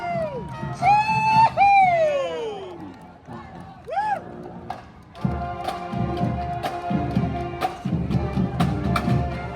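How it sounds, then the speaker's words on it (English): Members of a high school marching band cheer and whoop at a veterans parade in Waikiki, Honolulu, with rising shouts and yells near the start and then a busier crowd noise of chatter and scattered clapping. "Can we get a cheer from my band?"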